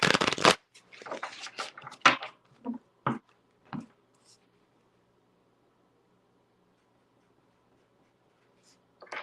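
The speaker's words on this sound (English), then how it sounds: "Okay, Gurpreet, let me finish shuffling one more time really quick" Tarot cards shuffled in a few quick riffling bursts close by, followed by brief taps and then near silence.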